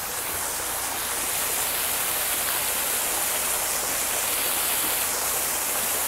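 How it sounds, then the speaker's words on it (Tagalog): Small waterfalls in the Singapore Botanic Gardens pour steadily, a dense, constant rush of falling water that stays even and close throughout with no voices. "Mini waterfalls lang."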